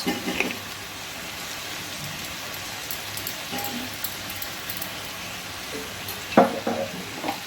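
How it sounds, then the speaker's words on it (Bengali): Scraping and soft sizzling in a frying pan as a spoon stirs dark sauce, chili sauce and tomato ketchup together for chilli fish, with a few louder clanks near the end. "ভালো করে আমি সব সসগুলো মিশিয়ে নিয়েছি"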